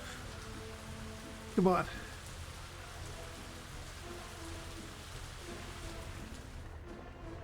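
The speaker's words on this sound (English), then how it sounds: "it starts raining the second he leaves" Steady video-game rain patters and hisses throughout, with a voice briefly speaking over it near the start.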